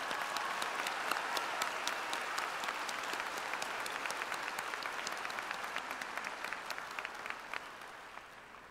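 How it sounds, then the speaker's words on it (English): Steady, faint applause from a large audience honoring a man at a high school graduation ceremony, crisp claps heard from a distance, continuous and even throughout with no talking. "Let's take a moment to honor Mr. Dusso with a round of applause for a life well lived"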